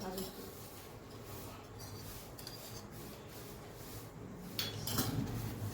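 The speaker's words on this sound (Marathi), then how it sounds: "आपल्याला तेल आणि रवा पूर्णपणे मिक्स करून घ्यायचा आहे." Hands rubbing semolina and oil together in a bowl, a soft continuous gritty rasping with slight clinks, close and fairly quiet.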